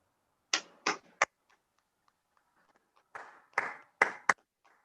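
A few scattered hand claps from a small audience at a Toastmasters meeting, faint and sparse, coming in two brief bursts separated by near silence.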